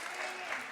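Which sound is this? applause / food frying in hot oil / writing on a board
applause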